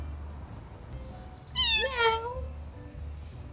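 A single clear cat meow in the video game Little Kitty, Big City, rising then falling, close and distinct over quiet game background ambience.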